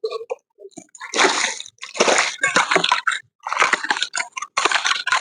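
Water splashes and sprays in irregular loud bursts while a newly built building is being watered for curing, with short pauses between gushes.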